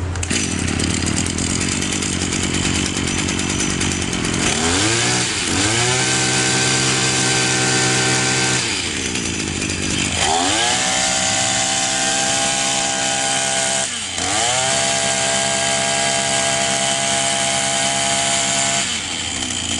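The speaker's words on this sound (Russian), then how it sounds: "попробуем завести, послушаем, появилась ли мощность и вообще как работает триммер" A small two-stroke Echo string trimmer engine, freshly cleaned of piston carbon, runs loud and close, its whine repeatedly revving up and dropping back in several bursts, with no talking.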